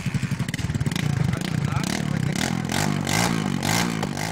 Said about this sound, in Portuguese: Segundo a guarda, os suspeitos faziam manobras arriscadas com os veículos e muito barulho.